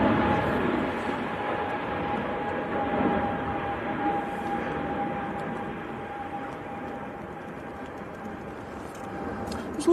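An EasyJet airliner at Manchester Airport on a windy day, bound for Agadir, gives a steady loud jet engine roar with a sustained whine that holds for the whole stretch, fading only slightly.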